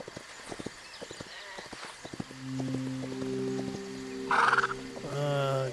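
Horse hooves clip-clop in the video game Hytale in a quick irregular patter, followed by a steady mount sound and a short whinny near the end.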